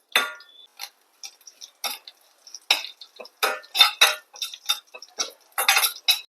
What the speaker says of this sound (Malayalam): എണ്ണ അവിടെ ചൂടായിട്ട് നമുക്ക് ഇതിലേക്ക് കടുകും ജീരകം കൂടെ ചേർത്ത് കൊടുക്കാം